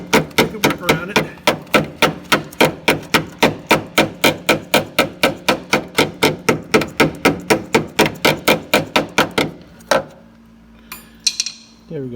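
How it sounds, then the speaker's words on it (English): A ball peen hammer strikes metal in a fast, steady rhythm, roughly thirty sharp ringing blows in close succession while dimpling a drain spot in a Jetta Mk4 ute bed frame, then a brief pause and a few clinks. "just use your ball peen hammer."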